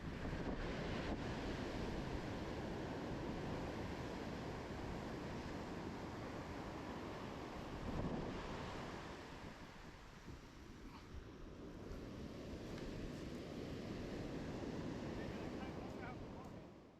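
Ocean surf washes steadily onto a New Zealand South Island beach under continuous wind rumble, a dense, sustained roar that swells and eases slightly over its length.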